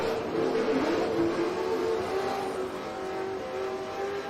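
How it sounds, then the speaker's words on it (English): A 1955 Chevy gasser and a 1979 Malibu make a drag-racing pass at a strip. Their engines roar with a sustained, rising rev that is heard at a moderate distance and carries no talk. "The Hustlin' Hillbilly 55 Chevy gasser. And the 79 Malibu."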